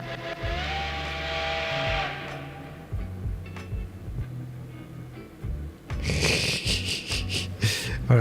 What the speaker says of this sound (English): Whoa, that's a loud train whistle.